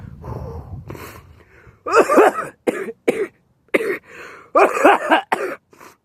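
A series of harsh, close coughs after smoking, in uneven bursts, some doubled, with a throaty rasp and short pauses between.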